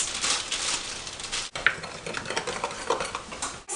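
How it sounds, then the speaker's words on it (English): Dry brownie mix is stirred in a bowl with a utensil, giving close, continuous scraping and rustling. There is a brief pause midway, then the stirring resumes steadily. "what we want to do is mix the dry ingredients"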